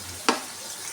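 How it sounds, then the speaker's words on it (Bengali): Potato pakoras frying in hot oil in a home kitchen. A steady low sizzle runs throughout, with one short, sharp burst of crackle near the start. "এগুলোকে একটু লাল লাল কালার করে ভেজে নেব"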